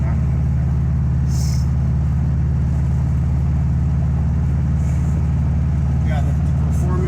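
A Subaru turbo car engine accelerating from inside the car, loud and constant low engine drone filling the whole stretch.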